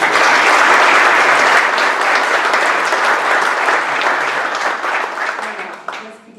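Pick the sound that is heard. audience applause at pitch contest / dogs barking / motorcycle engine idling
audience applause at pitch contest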